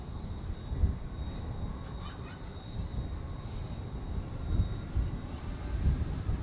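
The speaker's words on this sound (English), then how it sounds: "Edelweiss A320 on final in the background." An Edelweiss Airbus A320 on final approach at Zurich Airport in thick fog, a distant low jet rumble that holds steady and swells slightly, heard faintly from an outdoor spotting position with a thin tonal whine above.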